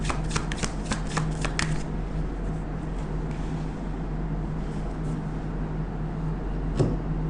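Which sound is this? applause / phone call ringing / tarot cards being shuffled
tarot cards being shuffled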